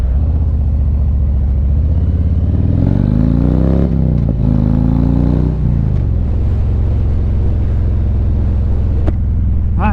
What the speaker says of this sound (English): It just feels good to rip that throttle